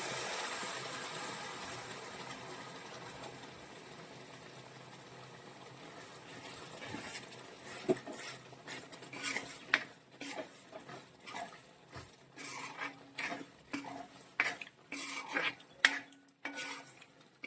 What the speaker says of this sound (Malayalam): നമ്മൾ ഇതിലേക്ക് വിനാഗിരി ഒഴിച്ചൊന്ന് തിളപ്പിക്കുവാണ്